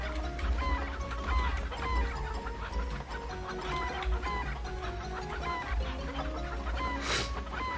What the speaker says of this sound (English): This brown chicken is sure fast.